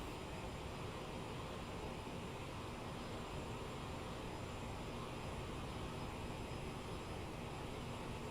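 The jet engines of a CRJ-700 in Microsoft Flight Simulator, held at a manually set throttle, give a steady, even roar with a faint high whine, constant and unchanging throughout, with no talking.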